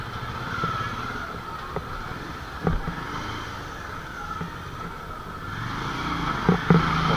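A motorbike runs steadily while being ridden on the way to a relative's house, its engine droning on throughout with a few brief louder bumps.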